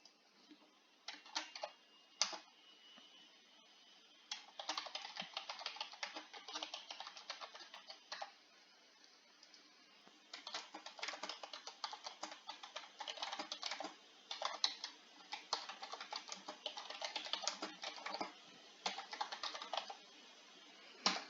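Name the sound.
typing a quiz question on a computer keyboard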